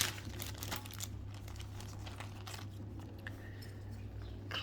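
Plastic resealable bags holding model aircraft kit parts crinkle and rustle as they are opened and handled. The crackling is close but faint and comes in uneven bursts, with no voices.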